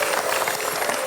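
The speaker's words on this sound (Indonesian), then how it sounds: "Tepuk tangan." A short burst of lively clapping from a crowd, dense and loud.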